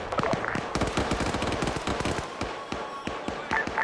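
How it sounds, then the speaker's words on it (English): Gunfire in a military video game set in an SCP mobile task force operation, rapid irregular bursts of sharp cracks and pops, fairly loud and dense, with faint voices present. "3, I'm hearing gunfire to the west."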